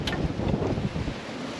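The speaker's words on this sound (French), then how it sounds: "il y a un grain à notre tribord, mais il va nous passer derrière. Mais on prend le vent du grain." Strong squall wind roars over a sailboat at sea between Martinique and Dominica, gusting around 22–25 knots with foam on the water; a steady, loud broadband rush fills the whole stretch with no voices.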